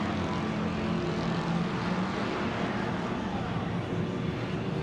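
An off-road race truck in the Sportsman class at a 2016 TORC short-course race in Chicago runs hard on the throttle, a loud, sustained engine roar heard at a distance and without a break.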